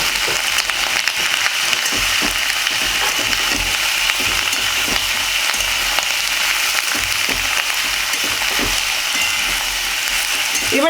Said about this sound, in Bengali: লাউটাকে দেওয়ার পরে আমি এটা নাড়াচাড়া করবো ফোড়নের সঙ্গে।